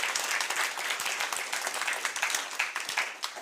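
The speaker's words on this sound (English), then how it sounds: "We give her a round of applause" An audience at an annual general meeting applauds, a dense, steady patter of many hands clapping together for a few seconds at moderate volume with no speech over it.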